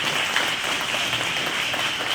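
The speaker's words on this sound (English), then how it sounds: "Let's give him another round of applause." Applause from an audience at a Class of 2022 graduation ceremony, a dense, steady wash of clapping held at an even level for a couple of seconds.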